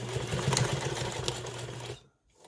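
Sewing machine stitching across a fabric bag strap for a clutch, a steady close run of rapid stitches for about two seconds that stops abruptly into near silence.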